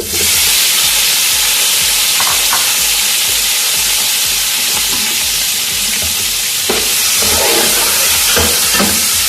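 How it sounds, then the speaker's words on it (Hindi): Boiled beef or mutton pieces sizzle loudly in hot oil for Afghani pulao, a constant close frying hiss with occasional stirring scrapes and no talking. "इसको अच्छे से फ्राई कर लेना हमने ऑयल में ही"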